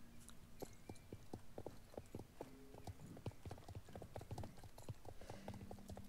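Horse hooves clip-clop steadily in the online game Star Stable Online, a brisk repeating rhythm of hoof strikes up close, with a faint whinny-like tone and game ambience underneath.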